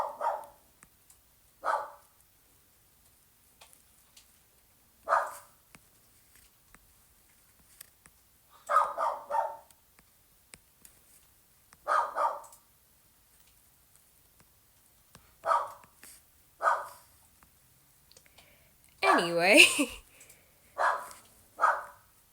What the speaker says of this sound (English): he's not gonna stop barking